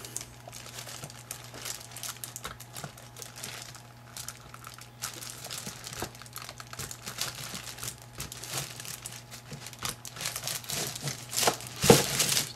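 Plastic sheeting crumpled and shoved aside while working on a leather sheath, irregular close crinkles and rustles over a low steady hum, growing louder toward the end.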